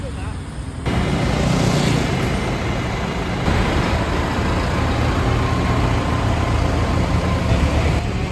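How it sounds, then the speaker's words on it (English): Tractor engine at a farmers' rally, a low rumbling motor running steadily and fairly close after a quieter start, with people speaking over it. "This is the first tractor."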